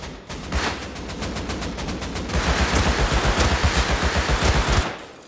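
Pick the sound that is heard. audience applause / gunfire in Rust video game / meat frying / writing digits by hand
gunfire in Rust video game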